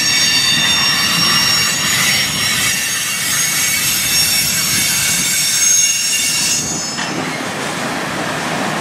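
A Norfolk Southern freight train hauling former BNSF hopper cars passes close by in Valdosta, Georgia, a loud continuous rumble with high squealing wheels that cuts off near the end.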